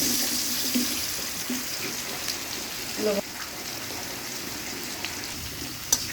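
Potatoes, boiled and cut, fry in hot oil with a steady broadband hiss and crackle that runs throughout, with a few brief louder pops and faint background voices.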